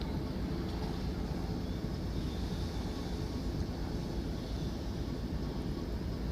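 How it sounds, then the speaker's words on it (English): Class 153 diesel multiple unit 153379 pulls into Paignton station, a steady, moderately faint engine rumble and broad rolling noise that holds even throughout. "I do not know the numbers on the set of diesel multiple units just arriving in now"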